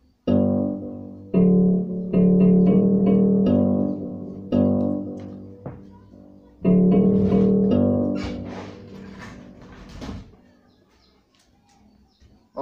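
A Caustic 3 beat pairs a string P patch with a soft piano synth in repeating sustained chord stabs with short gaps, loud and close, fading to quieter scattered tones near the end.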